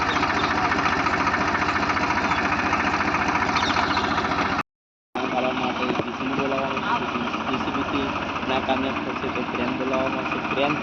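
A tractor engine runs steadily while pulling another tractor stuck in mud, a loud continuous throbbing drone that briefly drops out, then resumes with people talking over it.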